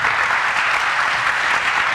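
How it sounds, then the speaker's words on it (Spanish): An audience at an academic research congress applauds in a steady, even wash of clapping that stays loud and continuous, with no voices rising above it. "realmente ese aplauso es para ustedes"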